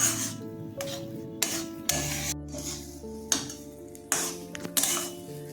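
Cabbage paste with green chillies frying in oil in a pan, stirred into a soft mass: repeated scraping and rasping strokes of a spoon against the pan over a steady low sizzle, close and moderately loud, no talking.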